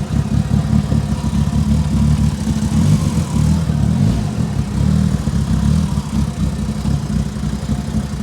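A Mitsubishi Evo engine runs steadily while driving after sitting unused for four years, a loud, dense low rumble with slight swells in revs, close and without talk.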